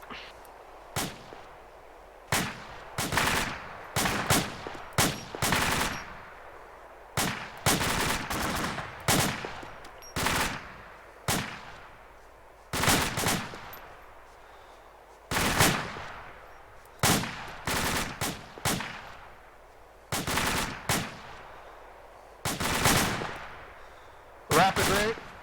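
Rifle shots from a fireteam firing drill at normal rate, sharp loud cracks spaced irregularly about a second apart, sometimes in quick pairs, over roughly twenty-five seconds with a faint background hum.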